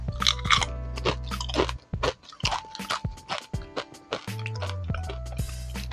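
Medium-thick Chuba cassava chips being bitten and chewed up close, giving loud, dense bursts of crisp crunching in quick succession with brief pauses and no talking.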